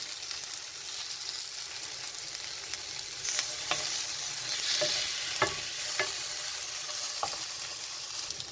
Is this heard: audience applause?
no